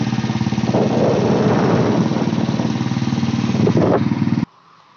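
A motorcycle engine runs with a steady, rumbling drone close by, then cuts off abruptly near the end.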